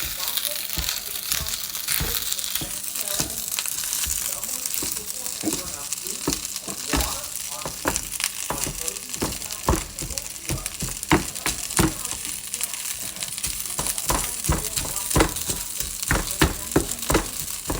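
Pieces of barley sausage being mashed and stirred in a hot pan, a continuous close sizzle broken by repeated soft pressing knocks and scrapes, with occasional talking underneath.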